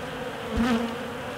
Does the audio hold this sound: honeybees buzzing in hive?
yes